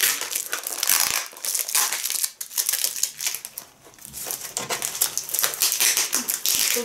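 Several layers of packing tape are ripped and peeled off a kitchen scale's box close up in repeated crackly, crinkling bursts with brief pauses between pulls.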